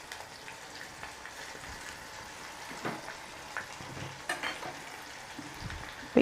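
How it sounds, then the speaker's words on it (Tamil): Asafoetida and dried red chillies fry in oil, a quiet, steady crackle with scattered small pops throughout and a brief louder knock at the very end. "இப்போ கொஞ்சமாக வாசனைக்கு பெருங்காயம் சேர்த்துக்கலாம்"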